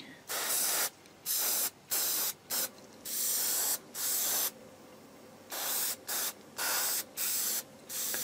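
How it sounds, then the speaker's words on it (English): Repeated short bursts of aerosol spray hiss close by, each a sharp blast of a second or so, separated by brief pauses, spraying a 1/32 scale T-800 endoskeleton plastic model. "another spray from the top just to make sure"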